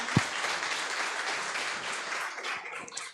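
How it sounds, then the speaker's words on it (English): Audience at a tech meetup clapping for the event organizer, a moderate crowd's applause at steady level with one sharp bump near the start, continuing evenly without speech. "You can clap for this guy and some other people."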